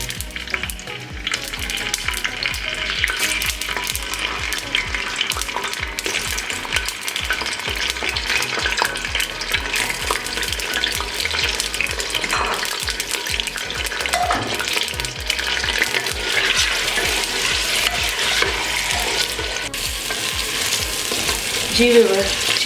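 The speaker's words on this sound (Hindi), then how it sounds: "अब इसमें चिकन ऐड करेंगे और 3 से 4 मिनट के लिए इसे फ्राई करेंगे" Half a kilo of chicken fries in hot oil inside a clay handi, a loud, continuous crackling sizzle with stirring scrapes running throughout.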